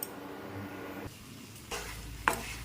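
A spoon stirs mango chutney with sugar in a pan over heat, giving soft scraping and faint sizzling with a sharp clink of the utensil against the pan near the end.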